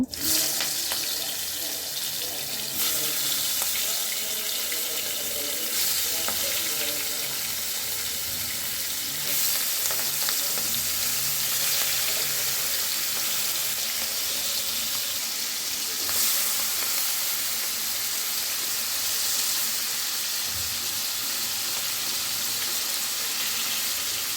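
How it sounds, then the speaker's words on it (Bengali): Shrimp fry in hot oil in a wok with a loud, continuous sizzle, steady crackling and occasional stirring or shifting sounds throughout. "মাছগুলোকে আমি এপিট ওপিট করে ভালো করে ভেজে নেব।"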